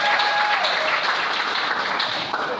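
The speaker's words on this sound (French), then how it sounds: "Où est-ce qu'on va acclamer le Seigneur?" A church congregation applauding to acclaim the Lord, dense steady clapping filling the room at moderate volume without a break.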